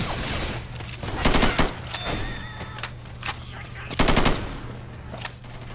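Rapid bursts of automatic gunfire in a survival shooter game, several loud stuttering volleys close up with brief pauses between, over a low steady hum and voices talking.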